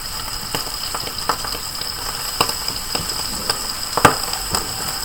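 Shrimp sizzle in a hot pan for spicy Cajun shrimp, a steady close-up frying hiss broken by scattered sharp pops and crackles.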